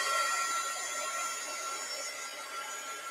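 A dryer blowing on thread held close by, giving a continuous airy hiss with a faint high whine that holds steady for the entire stretch.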